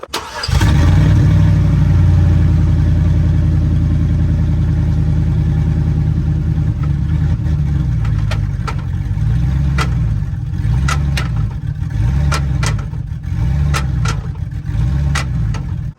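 A Chevrolet Silverado with a suspected broken pinion gear runs with its wheels raised off the ground. A steady, loud engine drone carries a rhythmic grinding pulse that repeats throughout.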